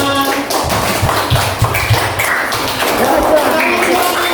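A classroom group clapping in a steady, dense burst of applause, with voices murmuring underneath.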